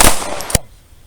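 Two sharp, close pistol reports ring out at a firing range, the first at the very start and the second just past the midpoint, followed by a short fading tail; no one speaks.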